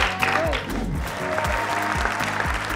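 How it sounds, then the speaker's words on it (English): Studio audience applause at a televised quiz competition rolls on under loud stepping music, clapping steady and moderately near. "Please clap for them."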